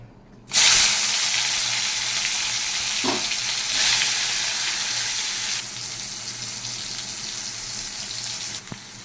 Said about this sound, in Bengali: এখন উচ্ছে কটাকে ভেজে নিচ্ছি।